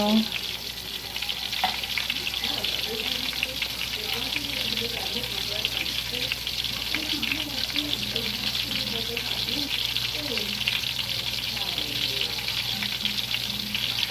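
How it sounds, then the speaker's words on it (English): A small can of tomato sauce goes into a pan of sizzling meat for a Mexican dinner, and a loud, steady frying hiss continues with some stirring while a voice talks over it. "I'm gonna go ahead and add in 1 small can of tomato sauce"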